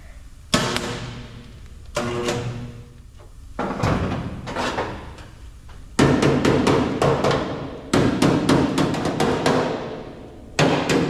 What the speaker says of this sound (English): Just hammering in this lip as close as I kind of weld it